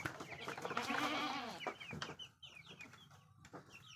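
Chickens cluck and squawk close by, with one loud drawn-out call followed by scattered softer clucks and chirps.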